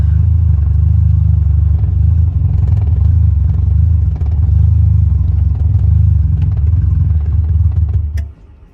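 A 1979 Mazda RX-7 idling loudly in reverse with no throttle, a steady low rumble that runs for several seconds before the engine struggles and cuts out abruptly near the end, leaving quiet.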